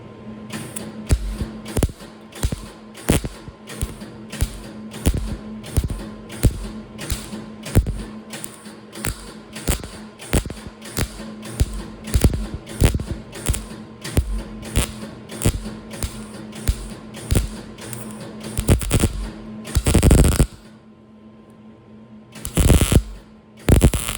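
A patch is tack welded onto the rocker panel of a 1958 Plymouth, a steady run of sharp, rhythmic pops and crackles with a low electrical hum beneath, ending in a short burst of grinding.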